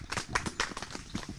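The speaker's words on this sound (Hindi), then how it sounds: "तालियां हो जाइए।" Brief scattered clapping from a small gathering at an outdoor village meeting on multi-layer farming, uneven and moderately faint, with a voice briefly mixed in.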